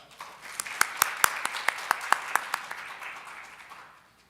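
An audience at a digital economy forum applauds to welcome a Goldman Sachs investment speaker, scattered distinct claps building into a brief burst of applause that tapers off.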